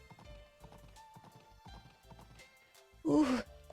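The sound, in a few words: horse hooves clip-clopping in a video game, Olive Town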